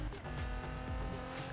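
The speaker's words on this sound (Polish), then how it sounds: "Samochód brzmi bardzo fajnie." A Nissan GT-R R35 in Need for Speed 2015 roars with a tonal engine note, joined by brief, repeated tire squeals as it drives hard, near and alone.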